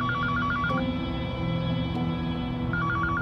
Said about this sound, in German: Im Polizeipräsidium stehen die Telefone nicht still.